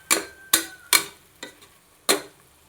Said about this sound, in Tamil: இதெல்லாம் நல்லா எண்ணெயிலே கிண்டி விடணும்.